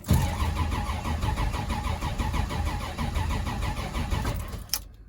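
Cold start of a 1966 Dodge Dart GT engine: steady rhythmic starter cranking, close and loud, running for several seconds before cutting off abruptly near the end.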